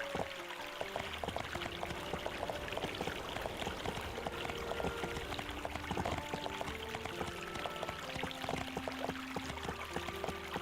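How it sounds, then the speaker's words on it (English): Continuous rushing water ambience from a video game, a dense, steady flowing stream sound that stays uniformly close and even throughout, with no talking over it. "it sounds like we're standing next to like a flowing water when it's like way over there"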